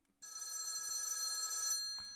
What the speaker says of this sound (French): Ah, mais en fait, il est là le téléphone.